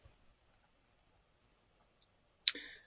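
Two sharp mouse clicks in Fusion 360 design software, a small tick and then a crisper, louder click, alone in a quiet room.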